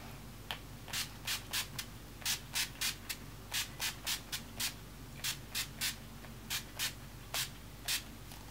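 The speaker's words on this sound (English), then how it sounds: "I'm just going to shut up and spray my face." A rapid series of short, crisp bursts from a dewy-finish makeup setting spray onto a face, about twenty quick pumps in clusters, close and fairly soft, with no talking.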